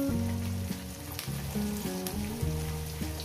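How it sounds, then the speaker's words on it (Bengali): Chopped onions frying in a pan for a spicy lote fish curry, giving a soft continuous sizzle under steady background music. "দিয়ে এটাকে 2-3 মিনিট আমি পেঁয়াজটাকে সুন্দর করে ভেজে নেব।"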